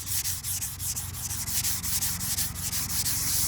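A sanding block worked over pinholes in car body filler, a fast rhythmic back-and-forth abrasive rasp that is steady, close and loud, with no speech.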